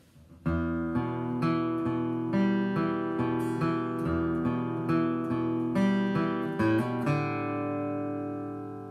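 Picked acoustic guitar plays a two-measure riff from the intro of a song, notes and hammer-ons ringing together in a steady rhythm, ending on a sustained chord, close and unaccompanied.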